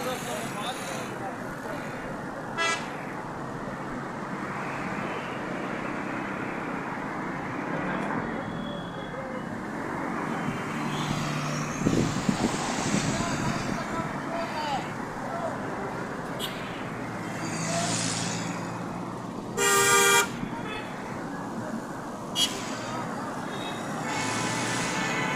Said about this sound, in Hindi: ये देखिए गाड़ी में रश।